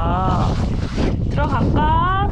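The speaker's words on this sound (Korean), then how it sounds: "바람 불어" Wind buffets an outdoor microphone during a snowy backpacking outing with a dog, a steady loud rumbling roar with gusts, while a voice speaks over it.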